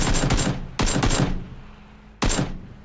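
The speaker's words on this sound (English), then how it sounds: "it looks like he's shooting behind me when he's not" Gunfire in the video game PUBG: three bursts of rapid shots, each a tight cluster of sharp cracks with a short decaying tail, separated by brief pauses, loud and close with no talking.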